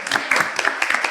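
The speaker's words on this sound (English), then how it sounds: "And this applause is for all of you" Brief burst of audience applause at a Women United event, a dense patter of many hands clapping for just over a second.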